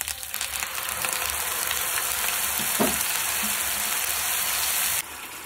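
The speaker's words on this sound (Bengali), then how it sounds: "পেঁয়াজ বাটাটা দিয়ে দেবো, রসুন দিয়ে দেবো, এই জিরে, শুকনো লঙ্কা, কাঁচা লঙ্কা দিয়ে দেবো।" Onion paste, garlic, cumin and dry and green chillies fry in hot oil with a dense, constant sizzle and a brief scrape of stirring midway, cutting off sharply at the end.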